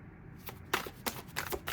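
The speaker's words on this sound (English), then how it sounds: "I shuffled these cards a lot" Tarot cards being shuffled by hand, several quick riffling bursts of papery flutter close up in a short run, with no voices.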